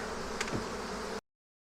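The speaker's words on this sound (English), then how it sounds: "the bees were going to be calm and easygoing" Bees from a hive being removed buzz loudly and steadily, a dense insect drone that runs for just over a second and then cuts off abruptly.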